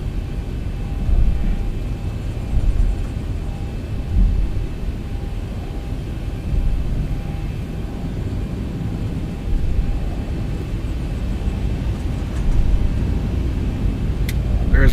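Boeing 737-800 taxiing in X-Plane 12, a low steady engine rumble with faint whining tones holding evenly throughout, with no one talking.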